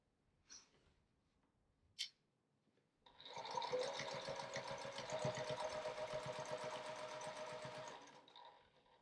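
A sewing machine quilts a quilt, starting after two brief clicks and then running in a steady, fast, even stitching rhythm for about five seconds before stopping, close and fairly quiet.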